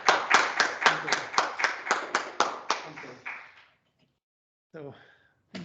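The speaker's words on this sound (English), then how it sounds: "So one last round of applause to Manuel." Applause after a research seminar talk, roughly a dozen clear, evenly spaced claps that quickly trail off into silence, then a brief voice starts speaking.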